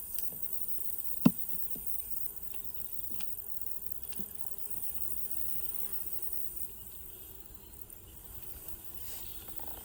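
Honeybees hum softly in a packed hive during a fall inspection, a faint steady drone with a few sharp clicks and taps of handling, no talk.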